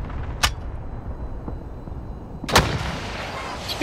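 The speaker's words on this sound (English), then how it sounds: "I saw you shoot it out the window" A rocket launcher fires out of a window in a video game, with a sharp blast early, then a louder whooshing launch burst past midway that trails off into rumbling background noise, with no talking.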